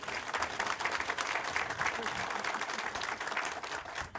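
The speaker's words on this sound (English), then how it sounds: "Let's give them applause again." Applause for landowners at a memorial bridge ribbon-cutting ceremony, a steady broad patter of many hands clapping from the crowd for about four seconds, continuous and fairly even in loudness.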